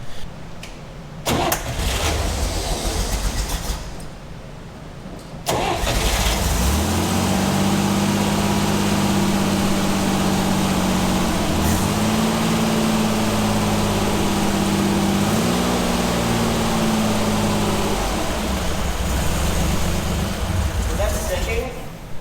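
A Chevrolet Corvair engine idles steadily at a lowered idle speed after adjustment, a continuous close rumble with a slight wavering pitch; before it settles there are some brief clunks and a short lull.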